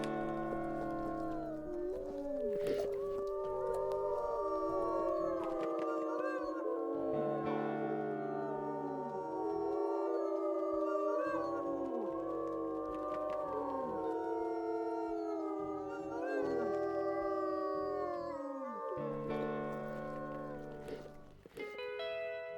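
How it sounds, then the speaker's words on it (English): Several wolves in the video game WolfQuest howl together in long, rising and falling, overlapping calls that run loud and steady for about twenty seconds, with brief breaks between choruses. "we're just going to start howling and take this over as quickly as we can"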